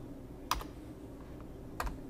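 A value is typed on a computer keyboard in two quick, close bursts of crisp key clicks over a quiet room hum.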